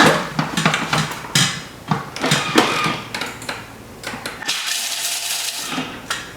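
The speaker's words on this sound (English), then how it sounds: "So I've got 80 grams of cashews that we're going to add to the bowl and chop up." Cashews being chopped in a Thermomix bowl at speed 9, a dense, rattling clatter of nuts hitting the blades and bowl walls, close and loud, with no talking.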